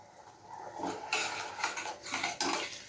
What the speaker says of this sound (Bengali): তো দেখো এখানে মশলা কষাচ্ছি।